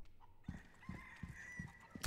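Rooster in a Resident Evil 4 Remake farm area, with soft repeated clucks and low thumps at a regular pace, fairly quiet, plus a faint tonal ambience running beneath.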